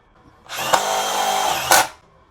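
Milwaukee Gen 3 stubby impact wrench, a compact cordless tool, runs at speed 3 in one close, loud, steady burst of about one and a half seconds with sharp rises at start and finish.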